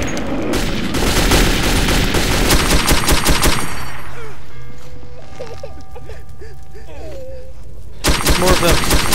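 Machine gun fire in the video game Metro 2033, loud rapid bursts up close, breaking off into a quieter stretch and then resuming, with no speech over it.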